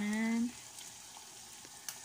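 A pan of ground beef being sautéed sizzles steadily at low level after a brief tonal hum at the start, with small stirring clicks scattered through the quiet frying hiss.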